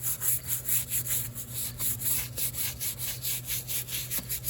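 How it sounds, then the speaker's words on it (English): A brush scrubs up and down a dirty motocross boot in close, rhythmic back-and-forth strokes, about ten of them in steady succession, with no talking. "I just go up and down the whole boot, scrubbing it wherever I sprayed, wherever it's dirty"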